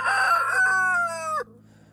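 A rooster crows once nearby, a loud drawn-out cock-a-doodle-doo lasting about a second and a half before cutting off into quiet.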